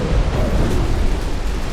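Torpedo hits on a battleship in a naval game, a loud, deep rumbling explosion that roars continuously for the whole moment with no pause.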